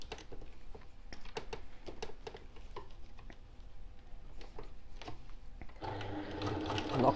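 A sewing machine stitching a boxed zipper pouch, a run of quick mechanical needle taps that stop and start, then a louder continuous whirring burst near the end, fairly faint overall, no talk.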